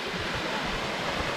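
Cascade Falls, a forest waterfall in Georgia at the end of a short hike, gives a steady, dense broadband rush of falling water, loud and continuous with no talk over it.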